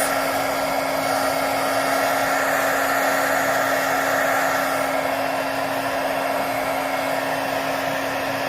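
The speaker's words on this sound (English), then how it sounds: "So just bear with me using the heat gun" A heat gun blows steadily on a faux rotting pumpkin, a loud, continuous whooshing hum with a constant motor whine that holds evenly throughout with no talking.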